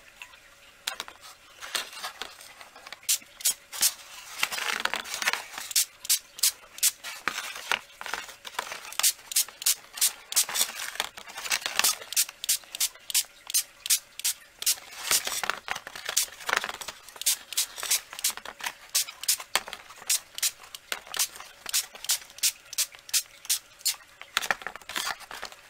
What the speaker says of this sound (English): I'm just going to give this a spray.